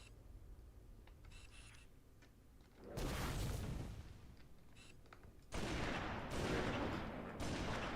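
Sniper rifle fire in a video game comes as loud, broad bursts that each linger for a couple of seconds, three blasts in quick succession over a low steady background hum.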